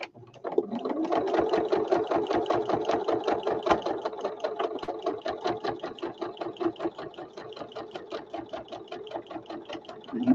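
A sewing machine runs a continuous straight stitch at steady speed, with a rapid, even needle rhythm and a mechanical whir that stays close and loud throughout.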